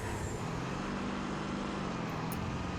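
A vehicle engine rumbles continuously while driving in the Halo Reach video game, a dense steady roar with broadband road and wind noise and no pauses.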